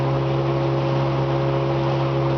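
A steady, loud engine drone from an old engine, with a strong low hum and constant tone, running evenly without change throughout.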